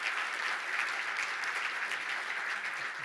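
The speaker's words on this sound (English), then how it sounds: "I'd like to give a warm round of applause to Mr. Gary White" A steady wash of audience applause greets a speaker at a corporate event. The dense clapping stays even throughout and plays alone, with no voices.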